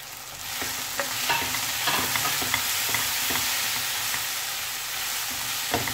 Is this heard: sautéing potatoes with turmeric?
yes